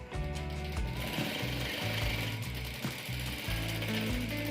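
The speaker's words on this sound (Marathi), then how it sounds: "आता आपले टक्स मारून घ्यायचे दोन्ही साईडला. अर्ध्या इंचाचे टक्स आपण मारून घ्यायचे." A sewing machine stitches half-inch tucks along both sides of a one-piece umbrella dress, giving a close, rapid mechanical clatter in repeated short bursts with brief pauses between runs. No voices are heard.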